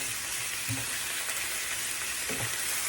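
Ground beef with onions browns in a pan as a steady, close, hissing sizzle with a few soft clinks of a fork stirring, and no voices.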